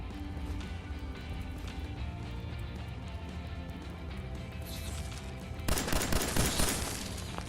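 Fallout 4 gunfire aimed at a radroach, a dense continuous stream of shots that surges louder and harsher near the end, close and busy with no voices.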